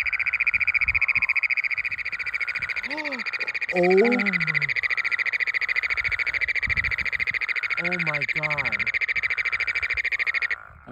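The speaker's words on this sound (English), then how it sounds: "Listen to the woodhouse's toads." Woodhouse's toads calling in a loud, continuous chorus at close range, a dense, steady trill that goes on throughout while a person gives a few short excited exclamations over it.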